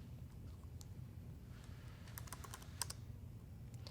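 A command is typed on a computer keyboard: a quick burst of light key clicks begins about midway and runs in uneven rhythm, faint and close, with no talk.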